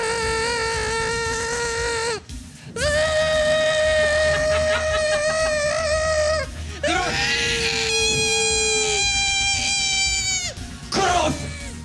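Voices imitate a mosquito whining near the ear, singing sustained, nasal, wavering tones in several long phrases separated by short breaks.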